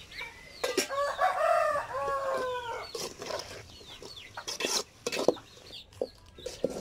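Chickens cluck and a rooster crows nearby, with harmonic calls early on followed by scattered clucks and brief flapping.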